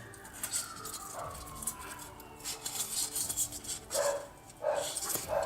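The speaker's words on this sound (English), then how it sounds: "now the dog is barking" A dog barks outside, several sharp barks from a distance, irregular and growing more frequent toward the end, with some background outdoor sound.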